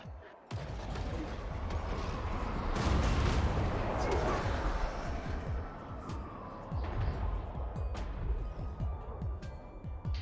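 Artillery barrage during a Total War: Warhammer Mortal Empires battle with the Tomb Kings, a dense rumbling wash of distant booms and crackling impacts with a swell of heavier fire midway, sharper cracks scattered throughout.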